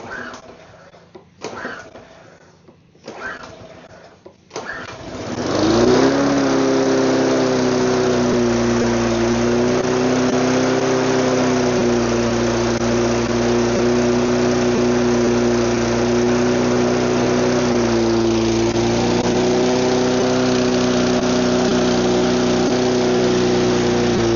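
A long-neglected engine, left outside without covers, sputters and cranks briefly, then catches and runs loud and steady at high idle with a rough, uneven tone throughout.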